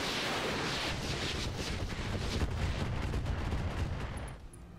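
Weapons fire in the mech combat video game Roguetech: a dense, continuous barrage of booming shots and rumbling blasts, loud and sustained for several seconds, fading slightly at the end.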